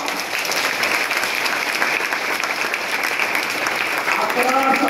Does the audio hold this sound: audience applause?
yes